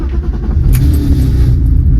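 A BMW E36 323i inline-six idles right after starting, a loud, close, steady low rumble with no talk.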